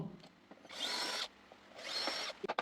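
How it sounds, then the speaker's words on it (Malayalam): Power drill boring holes into a metal frame for a DIY car-wash trolley: two separate whining bursts of about half a second each, close and fairly loud, with small clicks and handling noises between them. "ഈ ഒരു ഫ്രെയിം ഇതുപോലെ തുളച്ചെടുക്കുന്നുണ്ട്"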